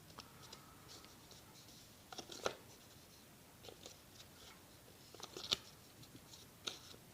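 Paper being creased and folded for an origami Miura-fold herringbone tessellation: quiet, close rustling and scraping with a few sharper crisp snaps as folds are pressed, alone without talk.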